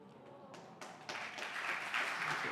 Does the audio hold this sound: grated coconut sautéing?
no